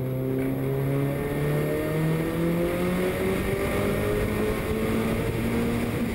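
Race car engine in Qatar National Rally Championship competition climbing steadily through the gears at high speed, one long loud upward sweep with a brief shift dip, close and continuous with no talk.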